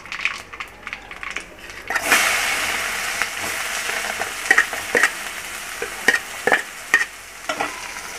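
Chopped onion dropped into hot oil with popped mustard seeds, fennel and curry leaves for tomato thokku, bursting into a loud sizzle followed by repeated sharp clacks of a ladle stirring against the pan, close up.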